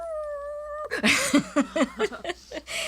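A dog howls and whimpers close by in a home kitchen, starting with a steady tonal note and then breaking into a run of wavering, yelping howls in quick bursts.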